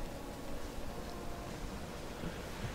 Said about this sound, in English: the waves, the water physics are cool, very reminiscent of Sea of Thieves